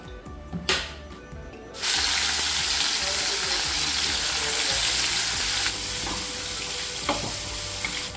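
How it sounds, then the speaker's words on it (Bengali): Paneer pieces fry in hot white cooking oil in a heated wok, a loud steady sizzle that bursts in after a brief quieter start and continues unbroken, with a few clinks near the end. "কড়াই গরম হয়ে গেছে, তো আগে পনিরগুলো আমি একটু ভেজে নেব।"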